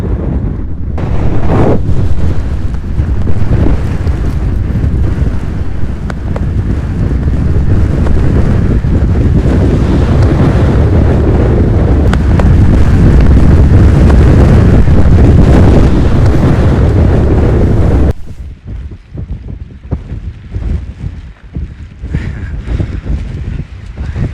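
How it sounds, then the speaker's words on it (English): Loud, roaring 50 mph storm gusts with heavy rain buffet the microphone at a wild campsite in a continuous rumbling rush, easing somewhat near the end but still blustery. "It did give 50-mile-an-hour winds tonight, so it's going to be a crazy one"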